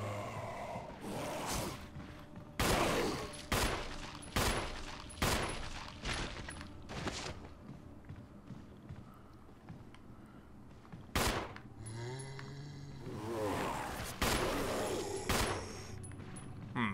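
Gunfire rings out in the video game Resident Evil Remastered HD, a series of heavy, booming shots spaced a second or so apart, with creature growls and game noise between them, loud and close.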